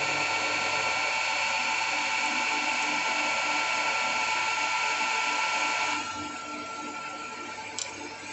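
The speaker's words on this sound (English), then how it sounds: "Power on the machine. I'm going to face across the piece again." A metal lathe makes a facing cut across a flywheel, a steady close whirring and whining drone that drops slightly in level toward the end.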